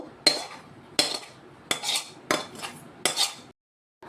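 Cooked mung posto is served from a pot into a dish. About five sharp metallic scrapes and clinks of a spoon against the cookware come at roughly even intervals, close and fairly quiet, followed by brief silence.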